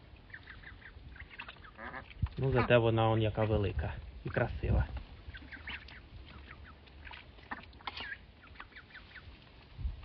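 A single domestic duck on a homestead gives a burst of loud, harsh quacks close by, with someone talking over and around the calls.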